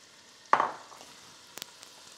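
Meat drops into browned, bubbling butter in a pan with a sudden sharp sizzle that quickly fades into a faint hiss, followed by a few small clicks.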